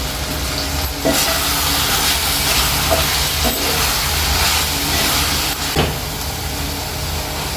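Vegetables for sambar fry in a pot with a loud, steady sizzle and hiss that carries on throughout, broken now and then by brief clatters of stirring, and no one talks.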